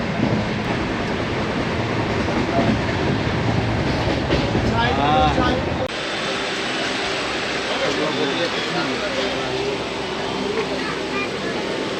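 A passenger train running nonstop at speed from Kolkata toward NJP near Kishanganj, a loud continuous rumble and rattle of carriages with clicking wheels, the tone shifting abruptly midway, heard from inside the coach.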